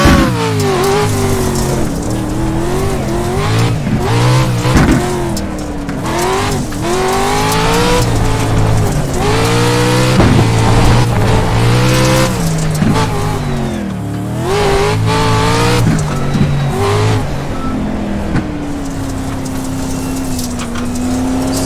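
A Pro 4 truck races around Crandon Raceway in iRacing, its engine roaring loud and close as it revs up and down through shifts, with tire squeal and skidding on the turns and no talking.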